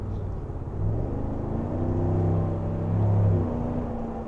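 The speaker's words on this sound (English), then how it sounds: "You hear that nice naturally aspirated V8" A 2023 Chevrolet Silverado ZR2 pickup's naturally aspirated 6.2 liter V8 rumbles low and even while driving, swelling slightly as it accelerates, heard from inside the cab at moderate volume.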